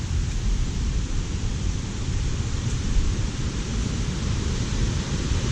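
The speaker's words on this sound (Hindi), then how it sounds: "कोई तो आगे झरना है जिसकी आवाज़ तेज़ होती जा रही है।" A waterfall beside a mountain trail to Hemkund Sahib and the Valley of Flowers in Uttarakhand makes a continuous broad rushing roar. The sound is steady and fairly loud, with no voices.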